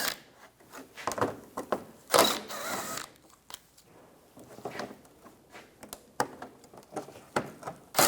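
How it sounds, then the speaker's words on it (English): Ratchet with a 10mm socket loosening bolts on a Toyota Prius splash shield, quick irregular clicking bursts and clanks up close, faint and scattered with short pauses between turns. "Use a 10mm socket. There's bolts on the front. Take those out."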